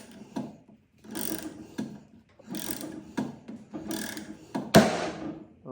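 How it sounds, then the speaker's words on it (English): A wrench turns a Bessey parallel clamp against a force gauge under heavy load, giving repeated bursts of close ratcheting, creaking mechanical strain with short pauses between strokes, then a sudden sharp crack as the clamp gives way near 2,000 pounds. "when you're cranking on your most expensive clamp"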